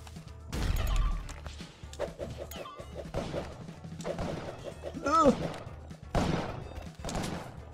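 A bomb going off in Spelunky, heard as a heavy crashing boom among game thumps, chiptune-like beeps and a short rising squeal. A player talks over the game sounds.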